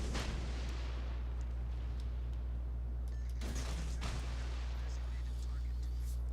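Ship cannons firing in a naval video game, a few booming shots spread out over a constant low engine-like rumble, moderately loud, with no clear talk.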